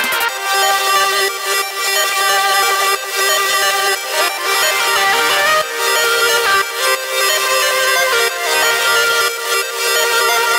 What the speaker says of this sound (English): combine that with a really peaked out and limited solo